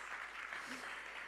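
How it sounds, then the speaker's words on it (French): An audience applauds a candidate selected for the Games at a talk event: brief, steady clapping at moderate distance with some background murmur. "On peut l'applaudir, ouais."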